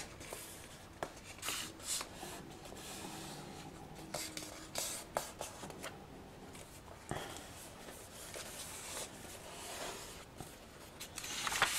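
Paper being folded by hand while working on a stamped landscape art piece, soft close rustling, rubbing and creasing sounds at low volume, with no speech.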